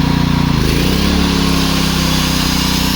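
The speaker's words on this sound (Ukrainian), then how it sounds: "Зараз ми спочатку включаємо кутошліфувальну." A Makita angle grinder runs off a Zegor inverter generator, giving a loud, steady high motor whine that settles into a constant drone after a brief rise in the first half second.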